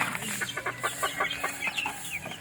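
Three-month-old backyard chickens clucking close by, a rapid run of short repeated clucks over a couple of seconds, with no voices.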